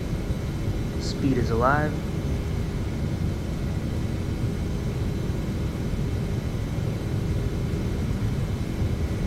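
Engines of a TFDi 717-200 airliner spool on its takeoff roll in the Prepar3D flight simulator, a steady loud rumbling roar filling the whole stretch, with a man's short spoken callout near the start.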